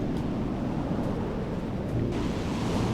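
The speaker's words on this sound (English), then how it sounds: "Finally make it to the Atlantic coast." Atlantic Ocean surf rolling onto the coast at the end of a coast-to-coast bike trip, a steady broadband wash of waves with wind rumble across the microphone and no talking.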